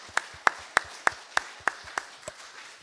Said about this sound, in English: So let's give a round of applause to those people.